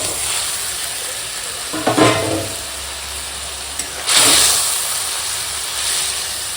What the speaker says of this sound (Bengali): এখন দিয়ে দেবো এই যে ভেজে রাখা ভোলা মাছ